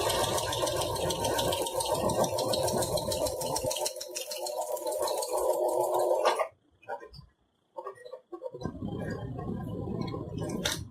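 Sewing machine stitching steadily along a fabric edge, a dense continuous whir that cuts off abruptly mid-clip, then brief clicks and resumes as the last side is finished with a reverse stitch.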